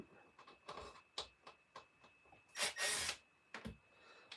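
Small screws being backed out of the battery tray on an RC car chassis: a quiet sequence of close, sharp clicks and ratcheting scrapes, with a louder burst of rattling handling noise partway through and no talking.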